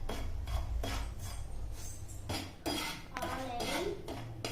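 Dry semolina (rava) is stirred and roasted in a pan, giving a steady run of scraping and clinking against the metal with no voices.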